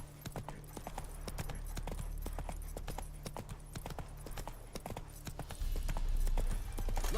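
Hooves clip-clop in a quick, steady gallop as the horse Roach runs in The Witcher 3, close and clear over a low drone, with a brief snort or whinny and some talk near the end.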